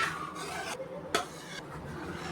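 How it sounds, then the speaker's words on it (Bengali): A corn flour mixture is poured into milk and stirred for a carrot sweet, giving steady scraping and swishing of a spoon against a pot with a brief clink, close and moderate, with no speech. "তো এবারে এটা খুব ভালো করে দুধের মধ্যে ঢেলে দেব।"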